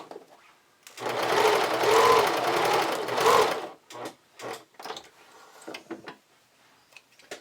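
A sewing machine runs steadily for about three seconds, stitching bias tape along a camisole neckline, then gives several short bursts and clicks as fabric is adjusted.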